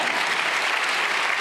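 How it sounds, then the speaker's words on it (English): Steady audience applause at a Python developer conference's lightning talk session, a dense, even wash of many hands clapping with no gaps, close and moderately loud throughout. "That's an applause."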